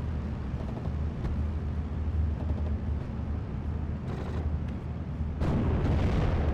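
Gunfire and explosions from a Humber Mark 3 armored car giving fire support in the World War II strategy game Steel Division: Normandy 44, a dense continuous rumble of booms and shots that grows louder and harsher toward the end.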